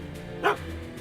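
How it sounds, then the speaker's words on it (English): A single short dog bark sounds over a quiet, steady background hum in the Back to the Future video game, clear and fairly close, with no voices. "Good dog."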